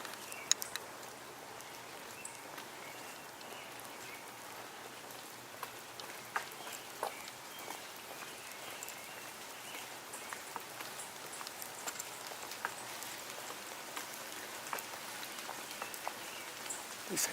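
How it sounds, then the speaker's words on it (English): Light rain falls outdoors in a steady faint patter, scattered drops ticking sharply here and there over a quiet background, with no voices. "Hope the rain's not picking up."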